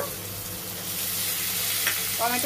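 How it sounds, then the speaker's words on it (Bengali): Fish curry spices with green chilli and tomato stirred and sautéing in a pan, a steady close sizzle with a few scraping stir strokes near the end, no talk. "বেশ একটু ভালো করে কষে নিতে হবে।"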